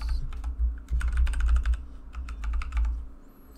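Keys tapped on a computer keyboard as a password is entered on a Windows 11 PC, a quick burst of close, crisp clicks in uneven runs over a low steady hum, with no talking.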